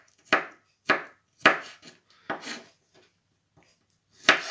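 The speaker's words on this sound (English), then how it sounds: "We will cut the garlic on small pieces" A knife chops garlic into small pieces on a cutting board, with about half a dozen sharp, close knocks in an uneven rhythm separated by brief silences.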